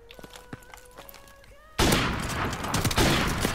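M4 rifle gunfire in Call of Duty Modern Warfare erupts suddenly as a loud, dense, sustained burst after a quiet stretch of soft clicks and tones, continuing to the end.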